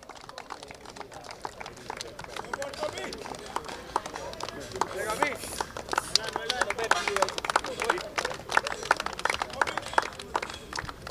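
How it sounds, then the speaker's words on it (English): Scattered applause from a small audience at a cricket match presentation at the African Games, men's Uganda versus Ghana, with uneven clapping and crowd noise throughout and voices mixed in. "A round of applause."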